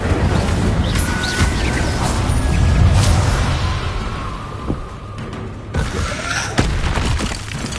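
Incendio fire spells cast in Hogwarts Legacy: loud booming bursts and crackling impacts with sharp clicks, the blasts repeating unevenly across the clip.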